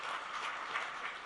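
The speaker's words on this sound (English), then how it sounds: "Can we have a warm round of applause" Audience applause at a budget roundtable welcoming India's Minister for Commerce and Industry Piyush Goyal, a steady dense wash of clapping from a crowd, moderately loud and unbroken.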